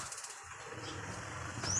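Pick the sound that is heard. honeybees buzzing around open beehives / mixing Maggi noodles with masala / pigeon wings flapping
pigeon wings flapping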